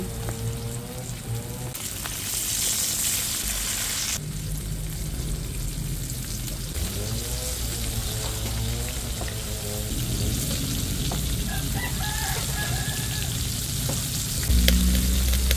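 Chicken necks deep frying in hot oil, a dense steady sizzle and crackle running throughout at close range, with faint stirring and a brief clatter near the end.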